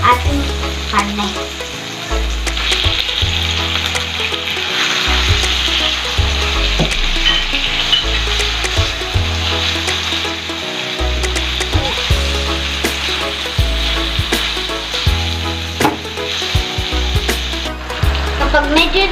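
Meat added to a hot pan for ginisang sitaw sizzles and fries loudly and steadily, with repeated scraping and stirring knocks from a utensil throughout.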